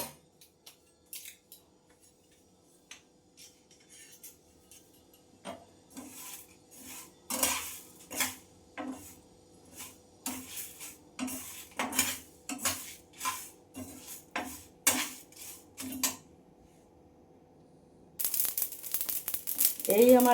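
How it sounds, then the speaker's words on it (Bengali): Mustard, fenugreek, coriander and nigella seeds dry-roasting for pickle spice in a pan, heard as a steady run of dry scraping and clinking stirring strokes at close range, ending in a louder burst of rough noise. "এই আমার আচারের মশলাটা ভাজা হয়ে গেছে।"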